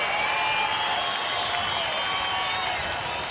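A smallish afternoon crowd at a Texas Rangers baseball home game cheers and claps in a continuous, steady wash of noise.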